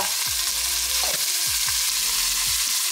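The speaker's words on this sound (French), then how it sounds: "Ensuite, on met donc notre poivron rouge." Red bell pepper dropped into a hot pan, giving a loud, steady sizzle throughout with several low thuds and scrapes of stirring, close up and with no voices.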